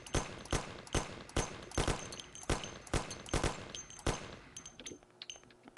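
Gunfire in the video game Mafia: roughly a dozen loud, evenly spaced gunshots in quick succession, each with a short ringing tail, followed by quieter trailing noise.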